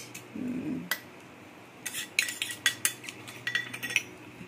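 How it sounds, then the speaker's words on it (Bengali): A spoon clinks and scrapes against a bowl while stirring a raw mango and onion sherbet with salt and sugar, giving a series of sharp, close taps in an irregular rhythm after a soft opening rustle. "এটাকে ভালো করে গুলতে হবে"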